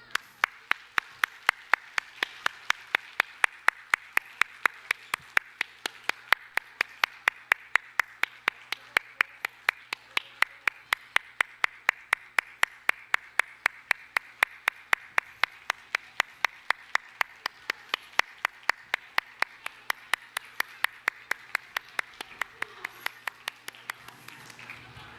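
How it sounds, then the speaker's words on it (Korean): Congregation at a Sunday church service clapping in a slow, steady rhythm, each sharp clap evenly spaced over a low background hum, going on for about twenty-five seconds before fading at the end. "자, 박수."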